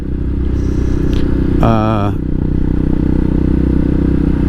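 A 2020 CSC TT250 motorcycle riding up Bull Creek road through redwoods in Northern California, its engine a loud steady drone with wind rumble throughout, and a short voice-like tonal burst midway.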